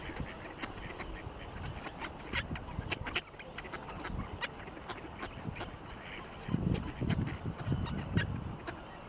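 Mallard ducks squabble over bread, with repeated quacks and honking calls, close and fairly busy against a noisy outdoor background, a denser burst toward the end.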